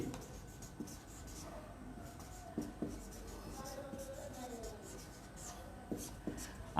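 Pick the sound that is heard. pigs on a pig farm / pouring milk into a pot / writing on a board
writing on a board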